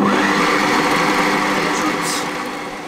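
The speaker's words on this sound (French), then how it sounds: "Donc avec la farine je vais juste mélanger 10 secondes vitesse 4." A kitchen robot mixes flour at speed 4 with a steady, loud motor whir that holds for a few seconds and then tapers slightly.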